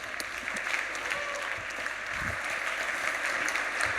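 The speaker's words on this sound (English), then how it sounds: "Please give him a warm, warm round of applause." Steady, dense applause fills a hall at the Plan ₿ Forum 2024 in Lugano as a forum audience welcomes a speaker to the stage, a continuous wash of many hands clapping.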